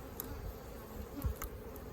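A low, steady insect drone of many honey bees humming together at a hive, fairly close, with small shifts in intensity.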